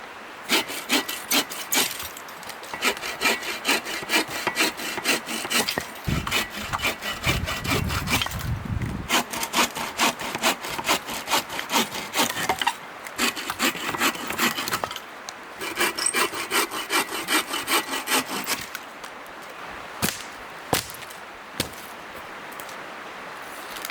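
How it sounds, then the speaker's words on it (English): A backpacking hand saw cuts firewood outdoors, loud rhythmic back-and-forth rasping strokes up close, pausing now and then before starting again, with no one talking. "That is definitely the nicest backpacking saw I've ever used by a long margin."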